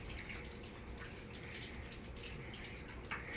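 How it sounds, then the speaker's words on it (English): A kitchen tap runs steadily during a hand wash, the close, continuous splash of water falling on hands in a sink, with no talking. "Just wash my hands real quick."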